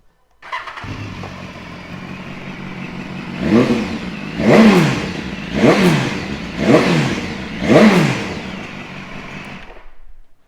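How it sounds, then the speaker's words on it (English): A 2016 BMW S1000RR sport bike with an Akrapovic end can starts up close by, then idles before five sharp revs rise and fall in a regular rhythm, loud and alone. "Akrapovic end can, which sounds awesome"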